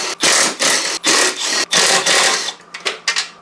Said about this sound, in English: to remove the scraper bar, I'm going to be using a 7/16 socket on my Milwaukee Impact